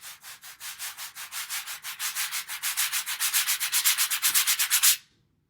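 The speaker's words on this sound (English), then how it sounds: "a 4th category of percussion instruments that we call toys, such as sandpaper blocks" Sandpaper blocks, a percussion toy, rubbed together in a steady run of about thirty quick, even scrapes that grow slightly louder before stopping abruptly, heard alone and close.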